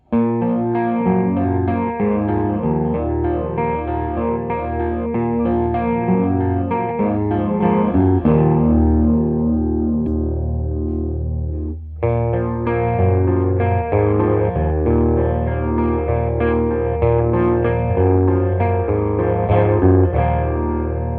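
A guitar runs through a Foxx Foot Phaser pedal with all knobs at noon and a medium-slow sweep, switching between 6- and 10-stage modes. The swirling tone plays loud and continuous, with a brief dropout near the middle where the mode changes.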